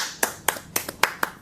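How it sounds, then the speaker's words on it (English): A single person claps slowly and sharply about six times, crisp close hand claps spaced evenly, with no talking. "I want to give you a round of applause,"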